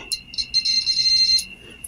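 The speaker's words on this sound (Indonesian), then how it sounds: "ini saya menggunakan buzzer aja teman-teman ya, buzzer seperti ini biasa ya" Electronic buzzer used as a tester during repair of a Sharp LED TV, giving a short high-pitched beep, then a longer steady tone, then a brief chirp, loud and close.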